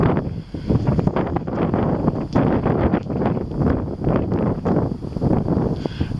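Strong wind buffeting the microphone, a continuous roaring rumble with gusty surges throughout, loud and close, with no talking.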